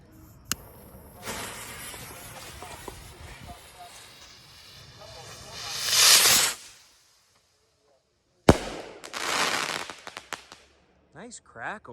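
A medium-size Silver Time Rain firework rocket from Cutting Edge Fireworks gives a sharp pop, then a rising rushing hiss that swells and cuts off. After a pause comes a loud bang and a spray of crackling bursts, with voices faintly heard.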